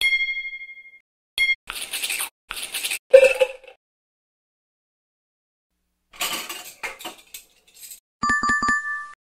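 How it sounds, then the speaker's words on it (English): Dishes and cutlery clatter in short bursts of clinking separated by silences, a sound effect in a blindfold sound-search game, framed by electronic beeps and chimes. "Sound is clattering dishes."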